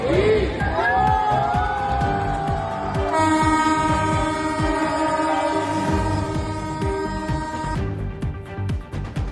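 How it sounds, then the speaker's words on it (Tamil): Many train horns blare together in a dense, overlapping chorus of sustained tones, loud and continuous, with a crowd murmuring beneath. "சரியாக இரவு 12 மணிக்கு ஒரே நேரத்தில் எழுப்பப்பட்ட ரயில்களின் ஹாரன்."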